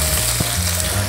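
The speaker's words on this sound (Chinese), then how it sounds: "再来，我们要来炒香我们的蒜头" Garlic and onion stir-fry in a pan for braised beef noodle soup, a loud, steady close-up sizzle with faint stirring scrapes throughout.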